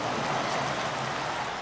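Steady broadband rain hiss fills a night football match in Belgrade in a soccer video game, a dense continuous wash at constant loudness with no voices.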